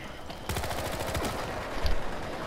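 Enemy gunfire in Battlefield Hardline comes as rapid automatic bursts, a dense run of shots with more fire layered over it. It keeps a loud, continuous battle din with no talk.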